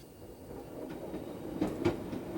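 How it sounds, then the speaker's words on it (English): An elevated train rumbles past close by, a steady low roar broken by sharp rhythmic clacks from the wheels on the tracks. "Well, that's the train, if you can hear that."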